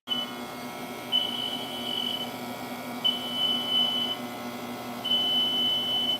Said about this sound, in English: Bear with me, I have to make it make beeping noises.